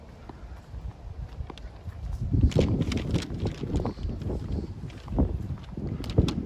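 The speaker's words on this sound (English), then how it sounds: "It's a bit windy today." Gusty wind buffets the microphone outdoors, a steady low rumble with stronger bursts, mixed with faint footsteps or clopping sounds.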